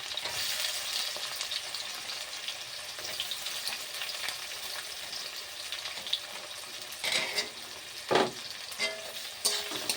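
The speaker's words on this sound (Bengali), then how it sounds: "ওই তেলের মধ্যে পেঁয়াজ কুচি দিয়ে দেবো।" Chopped onion frying in oil with whole garam masala for chicken kasha, a steady moderate sizzle with a few louder bursts of spattering and stirring toward the end.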